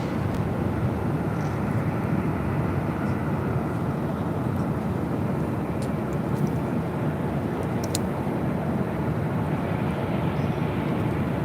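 Aero Union Boeing 767-200, a 36-year-old converted freighter, taking off from LAX bound for Guadalajara; a steady, continuous jet engine roar fills the whole stretch, loud and unbroken.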